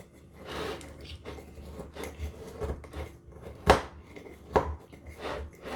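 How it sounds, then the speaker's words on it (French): Utensil scraping and tapping in a mixing bowl while ingredients are stirred in a home kitchen, a steady rubbing rhythm punctuated by two sharper clinks near the end, close and fairly quiet. "Mélange bien dans le fond."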